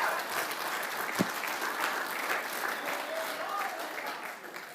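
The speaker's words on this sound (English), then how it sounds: "Come on, let's give him a big round of applause." A church congregation at a Good Friday service breaks into sustained, dense applause that holds at an even level for several seconds, with a stray thump near the start.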